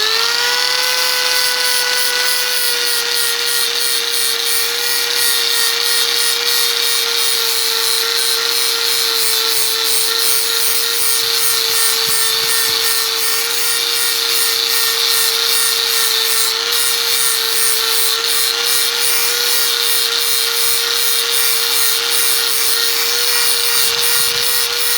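An angle grinder sharpens the edge of a steel spade, a loud, constant high whine with a harsh gritty grinding rasp running unbroken and close for the whole stretch.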